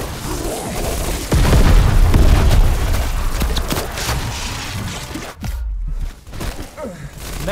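A frag grenade blast in Call of Duty Black Ops Cold War zombies mode, a loud, deep boom with a long rumbling tail amid constant dense game noise and gunfire.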